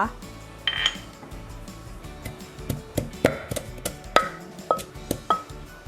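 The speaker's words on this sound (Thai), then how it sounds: "เดี๋ยวเรามาเริ่มตำตะไคร้ค่ะ" Two stalks of lemongrass are pounded in a mortar, producing a series of sharp, close thuds in an uneven rhythm with occasional ringing clinks, about a dozen strikes over several seconds.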